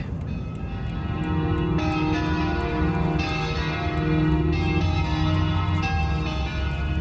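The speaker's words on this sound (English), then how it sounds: "The church bells ringing to remember the victims of Monday's truck crash." Church bells ring in Amqui, Quebec, in a steady pattern of repeated strikes, with sustained tones overlapping beneath a constant background rumble.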